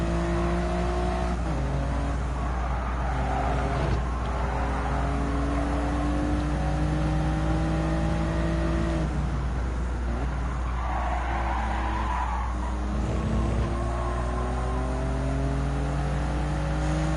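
A Toyota GR Yaris race car on track in Gran Turismo 7 revs hard through repeated upshifts, its engine note climbing and then dropping with each gear change, loud and steady throughout with no talking.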